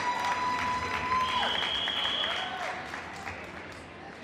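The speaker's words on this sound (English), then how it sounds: "a round of applause?" Crowd at a Ward 8 Democrats candidates forum applauds the congresswoman, a full round of clapping with faint cheering that gradually tapers off, while a tone sounds briefly over it.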